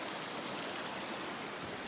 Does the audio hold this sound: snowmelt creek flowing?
yes